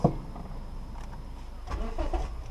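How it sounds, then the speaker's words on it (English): A 2009 Toyota Avensis 1.8 ValveMatic with a failing fuel pump, heard close as the starter cranks the engine with a rough, uneven churn. A sharp click comes at the start. "key in, ignition on, try start"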